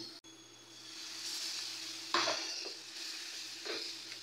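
Ground cumin and coriander fry with a little water in a pan for a prawn malai curry, giving a soft, faint, close sizzle with a few brief stirring scrapes; no one talks.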